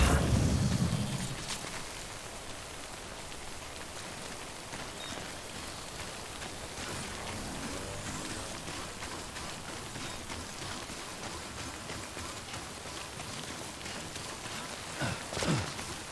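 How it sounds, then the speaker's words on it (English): Steady rain hisses down in Death Stranding, a dense, even wash of falling water that continues unbroken for about sixteen seconds, with a brief louder rumble at the start and no speech. "There's rain everywhere"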